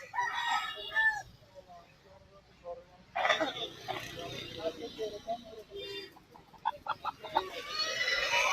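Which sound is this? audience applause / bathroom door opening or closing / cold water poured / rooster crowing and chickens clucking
rooster crowing and chickens clucking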